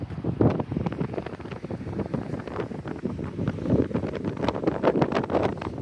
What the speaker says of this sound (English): It's a bit windy though.